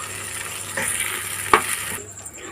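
Thick Thiruvaiyaru-style Ashoka halwa mixture is stirred in a pan, sizzling softly under scraping strokes, with one sharp knock of the spoon against the pan before the sound eases off.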